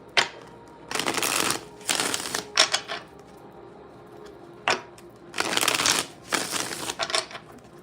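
Tarot cards are riffle-shuffled in quick, crisp bursts of fluttering, rattling paper, close and clear, with about five separate shuffles and brief pauses between them, over a quiet background.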